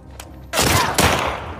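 Gunfire in the video game The Last of Us Part 2: a faint shot, then a loud burst of rapid, dense firing with a second volley close behind, sharp and near.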